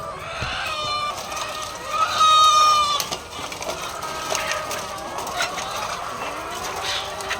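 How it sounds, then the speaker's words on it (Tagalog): A flock of laying hens at feeding time clucks and squawks together, with a few sharp calls standing out above a busy, steady background of poultry noise. "Magpapakain naman ako ng manok. Pakakainin ko na sila."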